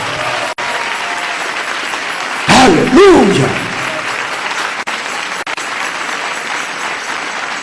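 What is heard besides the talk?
church congregation applause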